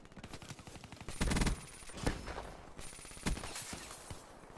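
First-person shooter gunfire: rapid automatic bursts with sharp repeated shots and a few louder heavy blasts, loud and close throughout, no talk.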